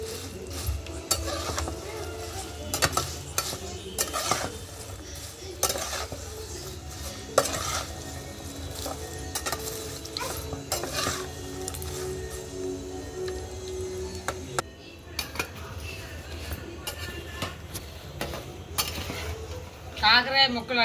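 Bitter gourd pieces tossed into hot tempering seeds in a pan over a wood-fired stove, sizzling and frying while a spoon scrapes and clatters against the pan in repeated stirring strokes, close and fairly loud.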